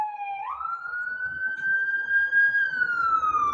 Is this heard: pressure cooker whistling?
no